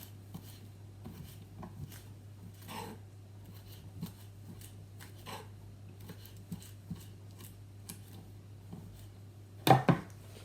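Soft, sparse knife taps chopping spring onions on a cutting board, irregular and fairly quiet over a low hum, with a brief louder clatter near the end.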